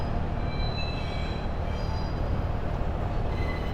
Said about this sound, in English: it's a train going on the train tracks up here